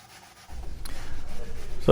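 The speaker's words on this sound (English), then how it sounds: "So I'm using a sanding block here" Sanding wooden furniture by hand with a coarse sanding block, a steady scratchy rubbing starting after a brief pause, growing in loudness, ending with a sharp louder scrape.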